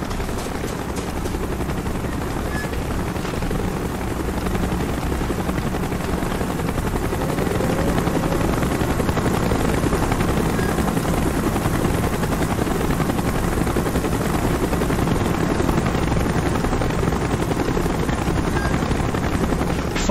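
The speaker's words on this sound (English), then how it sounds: "Chopper's inbound. Move it." A military helicopter in the Call of Duty: Black Ops video game thumps and whines steadily for the whole stretch, a loud continuous rotor drone with faint gunfire mixed in and no speech.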